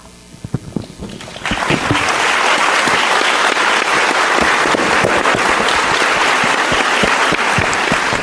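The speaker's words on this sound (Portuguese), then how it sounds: "Para o Ulisses, as palmas." A seated audience at a literary festival debate on dictatorship and democracy bursts into loud, dense applause after a brief lull. The clapping stays strong and sustained to the end.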